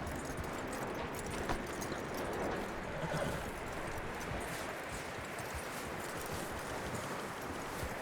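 Horse hooves clip-clop steadily across the ground in the Red Dead Redemption 2 western, a continuous rhythmic trotting under an ambient outdoor wash, with no talking.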